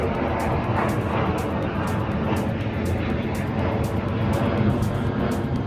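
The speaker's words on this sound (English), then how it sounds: "there are always planes going overhead" A loud, steady jet engine roar from an airplane passing overhead in uptown Dallas, rumbling continuously throughout without any voices.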